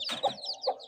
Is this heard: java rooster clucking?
yes